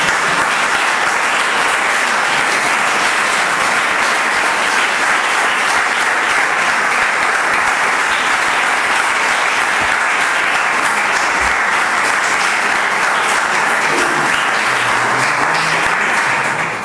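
Sustained, dense audience applause fills a lecture hall after a talk on early twentieth-century architecture in Málaga, loud and even throughout with no pauses.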